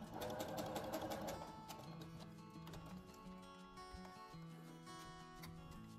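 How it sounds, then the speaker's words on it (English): A sewing machine stitches a straight seam across fabric, a steady close rapid mechanical whirr with fine ticking, running continuously on its own. "just take that to your machine and sew straight across"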